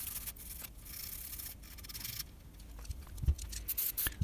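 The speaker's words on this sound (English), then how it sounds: "Some more of that electronic cleaner and a toothbrush." A toothbrush scrubs parts of a Yamaha SY77 synthesizer with electronic cleaner, quiet close scratchy rubbing strokes with a few soft knocks toward the end, no talking.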